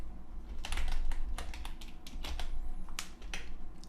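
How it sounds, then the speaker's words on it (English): Someone types on a computer keyboard, a close, clear burst of quick irregular key clicks with short pauses between clusters over a low background hum. "I type in header 1"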